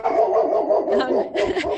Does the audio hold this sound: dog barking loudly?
yes